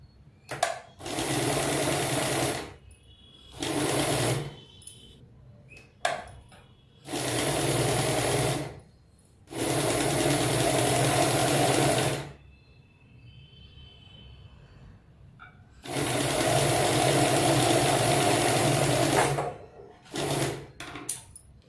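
Electric sewing machine stitching a padded princess-cut blouse with half-inch seam margins, loud steady whirring runs of one to four seconds separated by short quiet pauses, close up with no talking.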